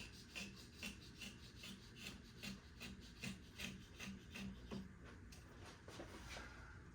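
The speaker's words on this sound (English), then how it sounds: "Back to the chisel." A wood chisel pares the side of a wooden piece to reduce its width, making soft, rhythmic scraping strokes about twice a second, close and quiet.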